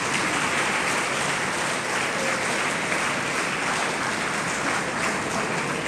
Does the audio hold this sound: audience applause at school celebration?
yes